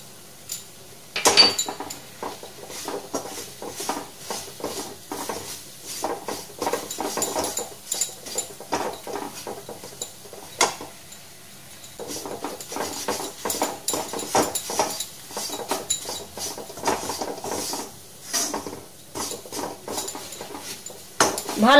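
A spoon stirs tea leaves and sugar being dry-roasted in a pan, scraping and clinking against the metal in irregular bursts, fairly quiet and close, with no talking.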